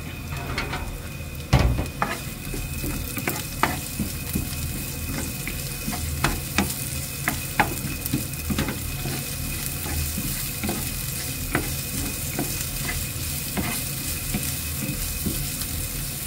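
Chopped onion sizzles steadily in a hot pan for bihon guisado, with a continuous frying hiss and repeated scraping clinks from a spatula as it is stirred.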